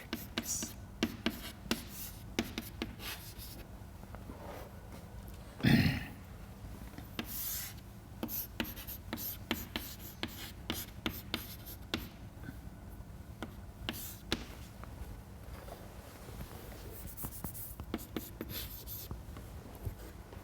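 Soft scratching of a pen or chalk writing out an equation during a mass transfer lecture, short strokes and taps coming in irregular bursts, with one louder knock partway through.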